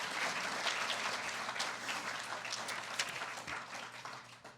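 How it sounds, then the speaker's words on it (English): Audience at a medical society awards ceremony applauding award recipients, a steady spread of clapping from a moderate crowd with a few sharper individual claps standing out, easing slightly toward the end. "Please give them a round of applause."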